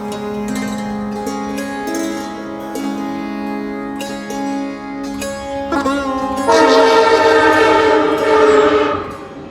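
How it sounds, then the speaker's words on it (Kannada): A train at Karaikudi railway station sounds long, tonal horn blasts in several overlapping pitches, then a louder, noisier burst of rail and engine sound rises near the end. "ಇವಾಗ ಸಾಯಂಕಾಲ ಕರಾಯಕುಡಿ ರೈಲ್ವೆ ಸ್ಟೇಷನ್ಗೆ ಬಂದೀನಿ"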